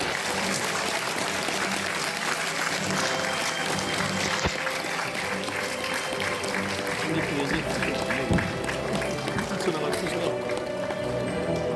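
A large audience at a party launch ceremony applauds steadily as party leaders are welcomed onto the stage, a dense sustained clatter with music and voices mixed in underneath.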